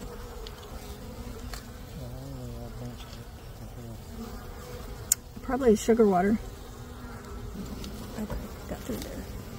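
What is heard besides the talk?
honey bees buzzing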